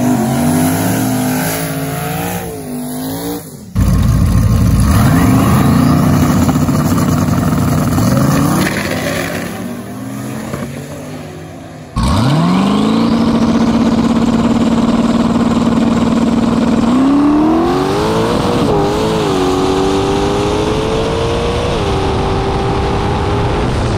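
A street drag car idles loudly at the track, then its engine revs and roars away on launch, the strong roar rising and falling as it pulls down the strip, close and powerful throughout.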